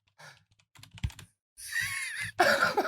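Someone types on a computer keyboard in a few short bursts of clicks, followed by louder rustling and breathy noise nearby.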